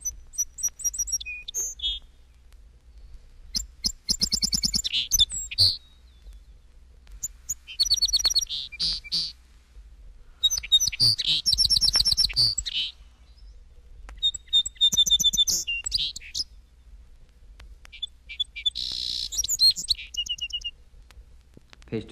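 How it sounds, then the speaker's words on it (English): A Song Sparrow repeats its varied song many times, close and clear: a few introductory notes followed by buzzy trills and jumbled chirps, with short gaps between phrases and no voices. "Page 239, Song Sparrow."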